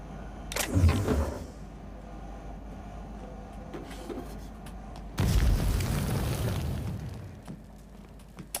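Two deep booming explosions in The Outer Worlds video game as a character spontaneously combusts, the first a short thud with rumble, the second a longer roaring burst several seconds later over a steady game backdrop.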